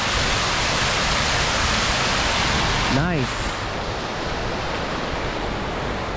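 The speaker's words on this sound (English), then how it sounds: "So that waterfall is ending up here." A park waterfall in Roma Street Parkland, Brisbane, pours in a steady broadband rush that fills the whole stretch, with a brief word spoken partway through.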